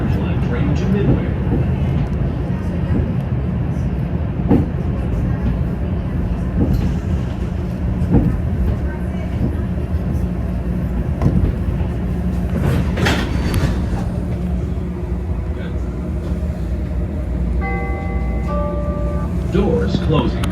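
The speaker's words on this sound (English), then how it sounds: "This is an orange line train to Midway." An orange line Chicago L train runs along elevated rails, a steady loud rumble with clattering wheel noise throughout and a brief squeal near the end, under an automated announcement voice.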